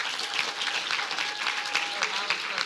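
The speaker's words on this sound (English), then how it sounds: "give yourselves a round of applause" A crowd claps at a swim team season awards event, steady moderately distant applause with a voice speaking over it.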